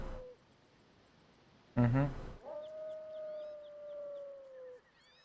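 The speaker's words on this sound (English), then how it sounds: "Only one beast that could let forth such an unearthly howl." Fenrir, the beast in the video game Final Fantasy XI, gives a long, rising and falling unearthly howl after a sharp burst of sound, set against a quiet backdrop with faint high chirps.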